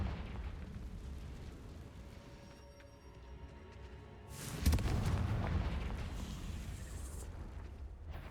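Confringo fire spell in Hogwarts Legacy bursting into a heavy booming explosion midway, a deep roaring blast that rumbles and decays over several seconds after quieter ambient game sound.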